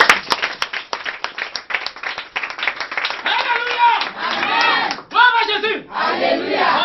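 A church congregation claps with sharp, rapid hand claps at first, then breaks into loud sustained cheering, shouting and ululating voices that fill the hall.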